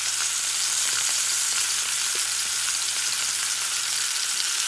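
Thick slices of liver frying in a pan give off a steady, dense sizzle that holds evenly throughout, close and alone with no talking.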